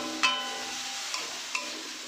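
Chopped tomato hits reddening cumin in a hot pan for an oil-free jackfruit dish, starting a soft, steady sizzle with a sharper hiss at the drop and a couple of faint stirring taps.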